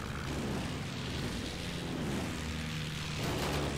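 Loud, steady propeller airplane engine roar during an animated Batman fight scene aboard a plane, a continuous dense drone that swells slightly at the end, with no speech.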